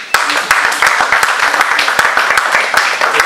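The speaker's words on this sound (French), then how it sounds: "on va l'applaudir" An audience at a ceremony honouring a 6th-dan karate master claps in sharp, uneven bursts over a low murmur of voices. The applause stays close and fairly loud throughout.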